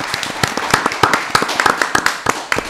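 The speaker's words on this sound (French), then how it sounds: "on va s'applaudir vraiment bien fort" A studio audience on a television set claps loudly after a reggae-flavoured song, sharp individual claps rattling out in quick, uneven bursts close by.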